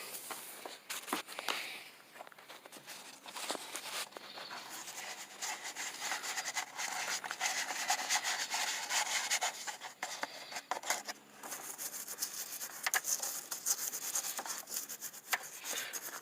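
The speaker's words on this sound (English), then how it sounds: "you can clean the terminals with the round parts, and then inside the battery cable clamps with the ends here" A brush scrubs car battery terminals and the insides of the battery cable clamps, giving a steady, close, raspy scrubbing with quick back-and-forth strokes that continue almost without pause and no talking.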